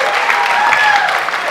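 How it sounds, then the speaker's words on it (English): A crowd applauds for a woman, steady dense clapping over a short stretch with a faint tonal sound and some murmuring voices blended in. "A round of applause for her"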